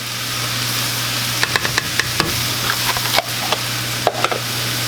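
Eggs with sun-dried tomatoes and feta sizzle steadily in a hot pan, a continuous close frying hiss broken by scattered clicks and taps of a utensil against the pan.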